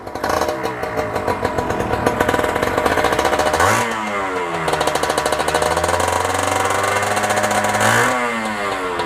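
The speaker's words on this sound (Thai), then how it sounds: "เดี๋ยวผมจะให้ฟังเสียงสำหรับเซอร์ปิโก้คันนี้นะครับ" A stock Suzuki Serpico motorcycle with an original carburetor idles nearby, its exhaust putting out a loud, steady putter; the engine is revved twice, rising and falling, then settles back to idle.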